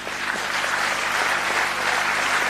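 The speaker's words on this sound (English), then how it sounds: "They have worked diligently and deserve one more round of applause" Sustained audience applause for students at a school Rangotsav cultural evening, a dense, even wash of clapping from a large crowd throughout.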